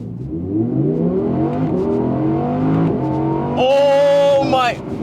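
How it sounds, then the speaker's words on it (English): An Audi R8 Performance launches from a standstill in manual mode on a cold day, its engine revving hard and climbing through the gears with loud rising tones and a sharp shift near the end. "it's time to try that 0 to 60 and see how fast this really is"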